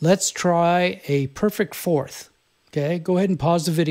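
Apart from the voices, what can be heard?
No everyday noises stand out.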